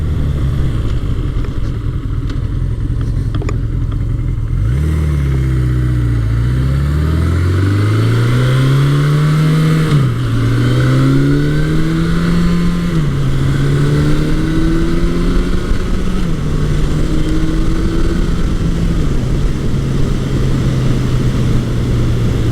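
A 1981 Suzuki GS1100E motorcycle ridden along a road, its engine droning loudly and continuously, rising in pitch through each gear, dropping at the shifts, then settling into a steady cruise.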